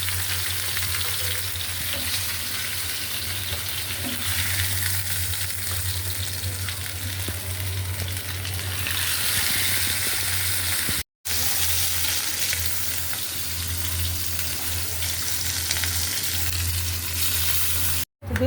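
Curry being sautéed in a home kitchen pan gives off a steady, close, continuous sizzle and crackle that runs unbroken apart from two brief dropouts, with no voices.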